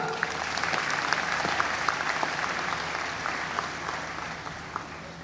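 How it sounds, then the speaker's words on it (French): A seated audience at a 2019 back-to-school education meeting breaks into steady, dense clapping that holds at an even level for several seconds, with no voices standing out. "On applaudit plus fort que cela."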